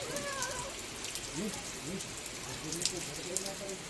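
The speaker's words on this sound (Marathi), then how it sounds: "सुंदर असा पाऊस पडत आहे" Rain falls steadily around a Konkan village house, a constant close patter and hiss throughout, with a few brief higher calls and faint voices in the background.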